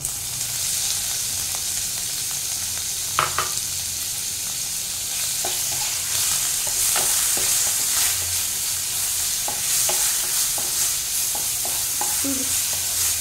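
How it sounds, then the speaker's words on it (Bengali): Prawns stir-frying in a hot pan for mixed Hakka noodles: a steady close sizzle of oil runs throughout, broken by scattered clicks and scrapes of stirring. "এবার আমি চিংড়ি মাছটা দেবো, খুব বেশি ফ্রাই করব না এটা।"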